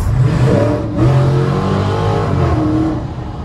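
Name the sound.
Dodge Challenger R/T Widebody engine revving in a tunnel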